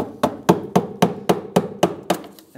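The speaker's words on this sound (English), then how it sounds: "I'm going to hit it with a hammer" Hammer blows on the sheet-metal cab corner of a 2001-2006 Chevrolet Silverado 2500, knocking the welds apart: eight sharp, evenly spaced metallic strikes about a third of a second apart, close and loud, with no talking.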